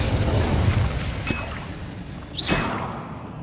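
Incendio fire spell cast in Hogwarts Legacy on PS5: a soft whooshing burst with a rising swish near the end, heard close over a steady low game rumble, with no talking.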